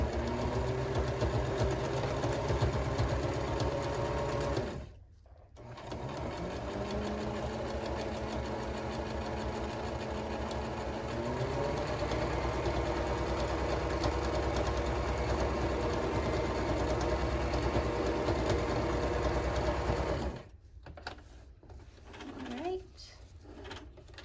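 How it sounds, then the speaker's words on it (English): A sewing machine runs steadily as it back-stitches a fabric face mask, a loud continuous mechanical whir with two brief pauses, and talking is heard over it. "I'm gonna sew this again with a back stitch at the beginning and the end."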